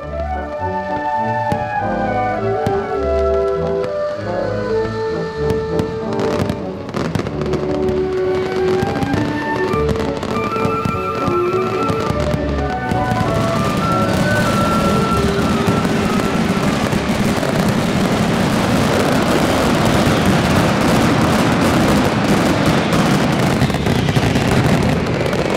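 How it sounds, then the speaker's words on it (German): Professional fireworks display at the Fallas festival in Valencia, with dense continuous bangs, crackles and booming bursts building into a loud, sustained barrage. "Die Berufspyrotechniker mischen Farben und Klänge in perfekter Harmonie"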